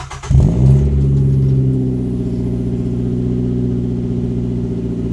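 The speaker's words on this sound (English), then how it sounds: "And then I also have a Cork Sport exhaust." A 2007 Mazda 3 with a CorkSport aftermarket exhaust starts and settles into a deep, steady rumble with a throaty exhaust tone, loud and close, idling continuously with no talking.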